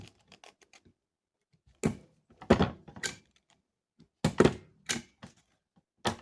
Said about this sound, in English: So they're going to actually turn a little bit when they're put together, and we're going to staple.